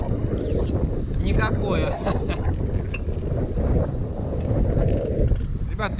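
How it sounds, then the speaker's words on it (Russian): Strong wind buffets the microphone in a constant roaring rumble, with a few brief spoken words barely rising above it. "Ребят, ветер просто ужас."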